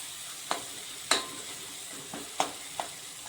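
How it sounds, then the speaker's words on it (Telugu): A spoon stirs chili powder into a tomato pav bhaji masala frying in oil, Mumbai style, giving five sharp scraping strokes at an uneven pace over a soft, continuous sizzle. "మంచిగా కలబెడతాం"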